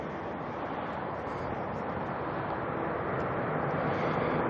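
A Jetstar airliner, flight 240, landing at Auckland airport at night, a continuous broadband jet roar that swells slightly toward the end with some wind rumble.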